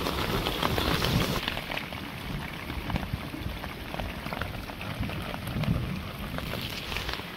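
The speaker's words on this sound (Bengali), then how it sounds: "এই দেখেন এখন তো বৃষ্টি কমছে" Rain falls steadily over village water and boats, a dense, even hiss scattered with close raindrop taps on leaves and surfaces, with no talking.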